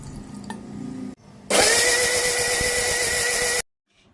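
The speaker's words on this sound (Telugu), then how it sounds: "రెండు వెల్లుల్లి రెబ్బలు కొంచెం వాటర్ వేసి చట్నీ గ్రైండ్ చేసుకున్నాను" A mixer grinder blends peanut chutney with garlic cloves and a splash of water. It runs in a short first burst, stops, then gives a louder, steady high whir for about two seconds before cutting off abruptly into silence.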